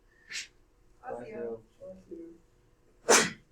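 A sharp, breathy sneeze bursts out close by, followed by a few quiet spoken words and then another loud, hissing sneeze.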